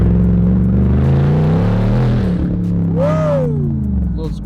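Loud McLaren engine rumbling and revving up close from the cabin, a deep throaty drone with rising and falling pitch that climbs into a sharp swooping rev near the end.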